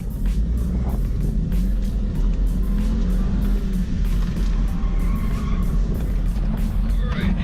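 A Volkswagen Jetta on an autocross run, engine droning steadily with tire noise and intermittent squeals, heard continuously from inside or near the car.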